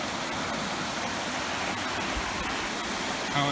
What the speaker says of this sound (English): It's really quite rushing fast today. There's a lot of water in there now because it's been raining heavily over the last few days.